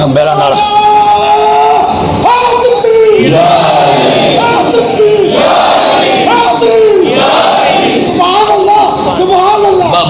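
A large crowd at a religious conference for Imam Hussain roars a slogan in unison, loud chanted bursts repeating in waves that fill the space with massed voices.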